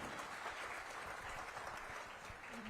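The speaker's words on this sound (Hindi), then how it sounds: "जी के लिए जोरदार ताली।" Applause from an audience at a public event, a dense continuous patter of clapping heard at a moderate distance without a break.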